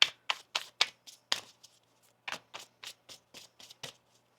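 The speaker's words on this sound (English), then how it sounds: "One more shuffle here." Crisp riffling and snapping of tarot cards being shuffled, a quick series of sharp bursts, a short pause, then another run of flicks.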